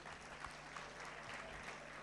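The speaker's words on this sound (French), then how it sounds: "On va applaudir pour lui et l'encourager" A company event audience applauds quietly, with soft, diffuse clapping heard at a distance under a steady low hum.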